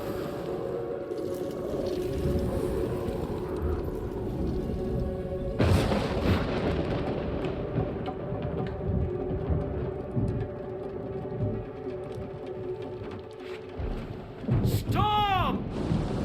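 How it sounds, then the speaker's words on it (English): Storm with thunder in the video game Death Stranding 2: a sudden booming rumble strikes midway, with later crackling and whooshing effects over a low, steady background. "Storm!"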